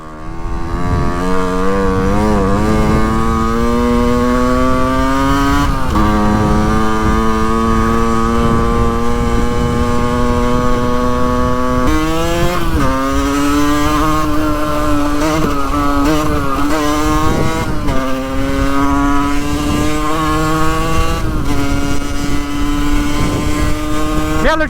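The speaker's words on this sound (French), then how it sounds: "Oh la grosse moto!" A Yamaha 50cc motorcycle engine drones loudly and steadily while being ridden, its pitch rising as it revs through a gear and briefly dipping between pulls.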